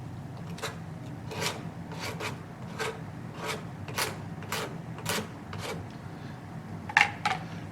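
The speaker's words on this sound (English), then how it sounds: "I'll use the blade of my knife. And I'm just going to scrape this down." A knife blade is scraped down a piece of fatwood to shave fine tinder. Rhythmic rasping strokes repeat about every half second, close and steady, over a low background hum. No talk.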